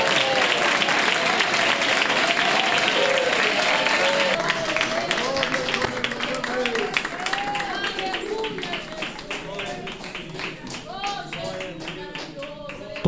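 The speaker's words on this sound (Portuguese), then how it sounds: "há uma salva de palmas para Jesus" A church congregation applauds and cheers for Jesus during a worship service, a dense continuous wash of clapping with raised voices and shouts mixed in, gradually thinning toward the end.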